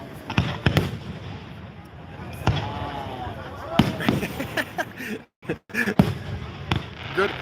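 Fireworks at the Milan Fair burst in a series of sharp cracks and booms, some spaced apart and others in quick clusters, moderately distant, with people talking and reacting throughout.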